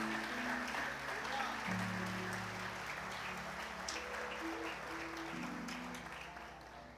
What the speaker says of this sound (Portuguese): Se você acredita nisso, aplaude bem forte o Senhor.